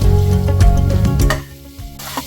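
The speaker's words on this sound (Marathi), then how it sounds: "आपल्याला ही मेथीची पानं घालून ही ग्रेव्ही परतून घ्यायची व्यवस्थित" Fenugreek leaves sauté in gravy, sizzling and spattering loudly as a spoon stirs and scrapes the pan, then the frying settles quieter with a few sharp clicks near the end.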